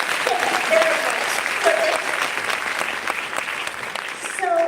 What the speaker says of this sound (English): can we have a round of applause here for our two children?